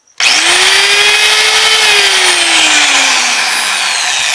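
The motor of a Makita 4100NH power tool with a rebuilt armature switches on and spins up to a loud, steady, high whine. The pitch then sinks slowly as it keeps running close by, with no talking.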